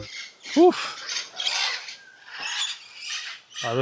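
Red-lored Amazon parrot at a riverside bird area in Honduras giving short harsh squawks and chattering calls, close and fairly loud, with a brief higher whistle-like note.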